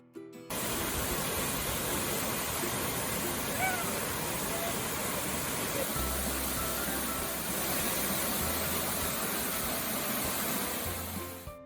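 Steady, dense broadband rushing of falling water, continuous and fairly loud throughout, with no voices.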